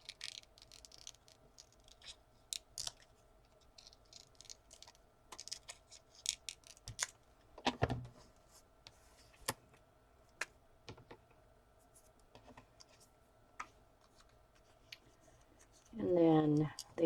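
Scissors snip closely around printed paper pieces for junk journal dangles, giving scattered short crisp cuts and clicks at a quiet, close level, with a brief burst of voice near the end.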